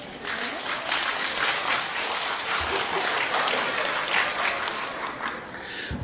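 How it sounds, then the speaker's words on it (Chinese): Applause from the audience at a Deyunshe crosstalk theatre show in Tianjin, a continuous moderate patter of many hands clapping from a distance, holding steady for the full six seconds, with no clear talking over it. "听着稀稀拉拉的掌声，是有点失望了吗？"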